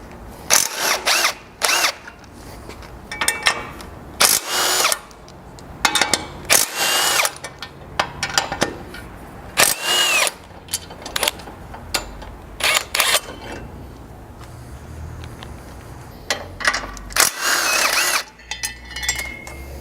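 A power tool spins off the four mount nuts at the front of a 200 Series Land Cruiser, running in repeated short whirring bursts separated by brief pauses, close and fairly loud with no talk.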